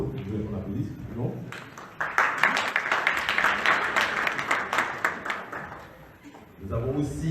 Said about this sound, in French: je vais qu'on applaudisse, non?